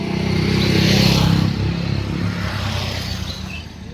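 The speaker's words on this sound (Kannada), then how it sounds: "ಬರ್ರಿ ಐತಿ ನೋಡ್ರಿ ಟ್ರ್ಯಾಕ್ಟರ್" A tractor engine runs steadily at close range, a heavy low rumble with a faint rattling clatter, loudest early and easing slightly toward the end, with no talking.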